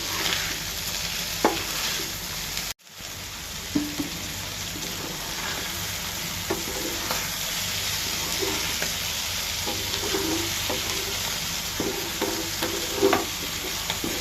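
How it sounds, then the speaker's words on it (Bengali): Fish stirred into a spice masala in a hot pan for a Bengali fish chorchori, a steady close sizzle with scattered soft scraping strokes and one brief dropout early on. "মাছটা উপরে দিয়ে দিব। মাছের সাথে মিক্স করে নেব।"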